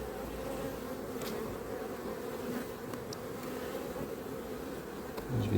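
Honey bees hum steadily in an opened beehive during a beekeeping inspection, a dense, close swarm drone with occasional louder individual buzzes passing near, no talking.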